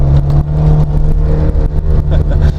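An Alfa Romeo Alfetta's twin-cam engine revs up close, a steady low droning hum with rising mechanical whir and light clatter running continuously throughout.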